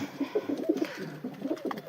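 A pigeon coos repeatedly in soft, low, rolling phrases, close by and fairly quiet, with no talking.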